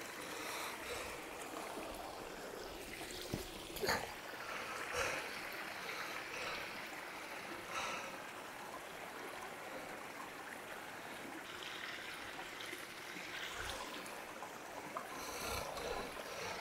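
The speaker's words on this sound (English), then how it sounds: "You can hear the river." A rocky river rushes steadily over rocks on Ilkley Moor, North Yorkshire, in a continuous broadband wash, with occasional clunks and footsteps of rock hopping nearby and no talking.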